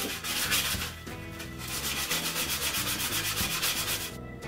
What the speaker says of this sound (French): C'est maintenant le temps de sabler la plaque.